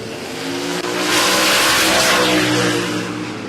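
LS-engined drag racing car at Warwick Dragway, Australia, roaring loud and near as it accelerates hard down the strip, the engine note swelling with a brief break at a gear shift before holding a sustained high-powered blare.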